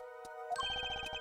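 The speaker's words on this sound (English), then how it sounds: "Mr. Stickler, is this your cell phone?" A cell phone in the Apollo Justice game rings with a bright, repeating electronic melody that starts after a couple of short blips and carries on in quick, even pulses.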